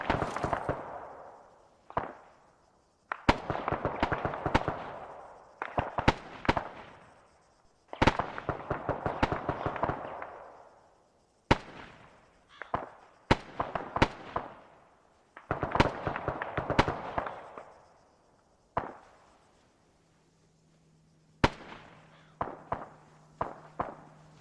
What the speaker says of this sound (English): Alright, bring in cluster bombs